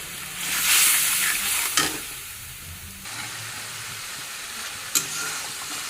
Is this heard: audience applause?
no